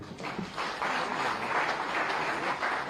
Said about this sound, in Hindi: हम सब की प्रेरणा स्रोत माननीय मुख्यमंत्री महोदय जी योगी आदित्यनाथ जी का लगातार तालियों के साथ।